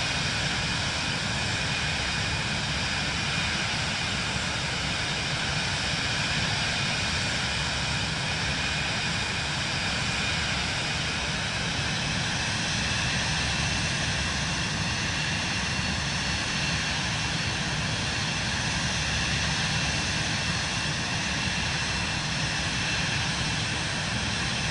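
Airplane engine in Microsoft Flight Simulator 2024 on approach to St Barts, a steady, loud, continuous drone with a broad roar and a faint high whine that never lets up, no voices.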